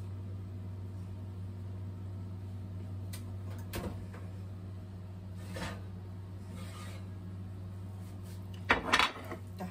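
A home oven door is pulled open and a baked, garlicky chicken dish is lifted out, producing a few soft clunks and scrapes over a constant low appliance hum, ending with a louder clatter.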